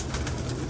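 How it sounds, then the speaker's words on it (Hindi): Pigeons coo close by in a loft with netting, a brief soft murmur over steady background noise, with no voices. "ये बहुत अच्छे परिंदे हैं और बहुत ज़बरदस्त परिंदे हैं"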